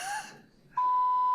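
A fire alarm sounds in a committee meeting room: a brief high tone, a short pause, then a steady, loud, piercing electronic beep that holds unbroken.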